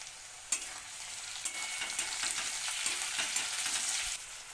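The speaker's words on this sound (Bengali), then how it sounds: "টমেটোগুলো দিয়ে ভেজে নিচ্ছি।" Tomatoes fry in a pan for a chicken curry, giving a steady bright sizzle broken by the clatter and scrape of stirring, close up and with no voices.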